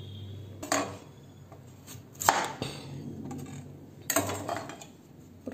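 Raw mangoes being peeled by hand in a home kitchen, with a few sharp scraping and knife-on-skin clicks spaced out over steady faint background hum, close and fairly quiet, with no talking.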